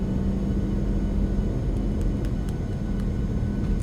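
An Emirates Airbus A380 landing on a runway at Sao Paulo, heard as a steady, loud low rumble of engines and rolling gear, continuous throughout with faint higher tones drifting above.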